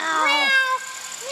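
A human voice imitates a cat, giving a drawn-out meow followed after a short pause by a second, shorter meow, close and clear over a quiet room.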